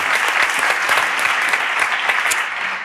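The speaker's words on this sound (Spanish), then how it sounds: "Un aplauso para Natalia" An audience at a talk applauds a guest named Natalia with brisk, close, continuous clapping from a modest crowd, individual claps audible within the dense wash and tapering slightly at the end.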